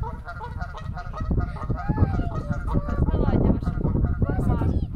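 Several geese honk and call together at a park pond in Czechia, with goslings nearby, a busy overlapping chorus with a person's voice briefly mixed in.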